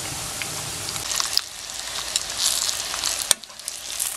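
Eggplant fingers sizzle in oil in a frying pan, a steady close crackle with scattered sharper pops and no talking.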